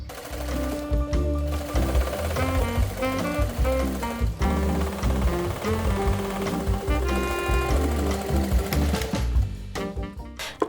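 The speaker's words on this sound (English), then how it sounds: "I'm gonna sew them together and then I can sew them to the front" A sewing machine stitches fabric pieces together, running in a steady rapid mechanical whir with rhythmic needle clatter, close and continuous with brief changes in speed and no talking.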